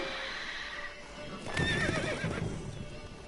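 Roach, a horse in The Witcher 3, gives a loud whinnying neigh that lasts about a second, with hoof clip-clop and ambient game noise around it and no speech.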